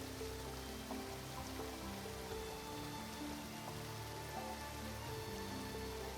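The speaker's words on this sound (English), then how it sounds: "this natural wonder offers an impressive panoramic view, with water cascading radially over a wide amphitheater of mossy rocks" Water cascades steadily over a wide amphitheater of mossy rocks at Tumpak Sewu waterfall on Java, Indonesia, a distant, soft, even hiss of falling water without talk.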